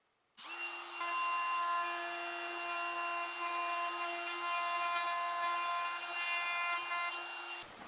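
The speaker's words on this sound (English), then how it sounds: "here's the bit, put that in the router" A handheld router with a straight bit cuts a hinge recess into the edge of a wooden closet door, spinning up and holding a loud steady high-pitched whine with a sustained tone until it stops.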